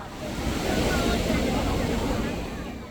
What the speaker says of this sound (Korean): 이곳은 우리나라 최대 규모의 해수욕장인 해운대 해수욕장입니다